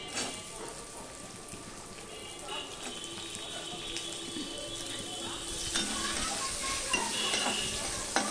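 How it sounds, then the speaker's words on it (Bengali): Onions frying in a pan over a five-spice tempering for a cabbage and fish-head dish: a quiet, steady sizzle with occasional stirring scrapes that grows a little louder toward the end. "এবার আমি পেঁয়াজগুলো দিয়ে দেবো।"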